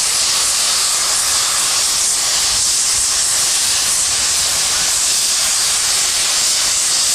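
An SY 2-8-2 steam locomotive working at the Tangshan coal mine gives off a loud, steady, continuous hiss of steam that holds unbroken throughout, with no talk.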